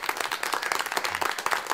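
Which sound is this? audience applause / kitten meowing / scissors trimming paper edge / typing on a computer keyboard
audience applause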